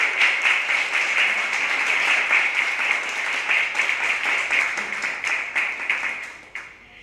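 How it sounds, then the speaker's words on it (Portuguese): Sustained applause from an audience at the swearing-in of new councillors for a homeless population committee, honoring the outgoing management team; dense, steady clapping that tapers off near the end. "Então eu queria pedir uma salva de palmas aí para essa gestão que está encerrando seus trabalhos hoje."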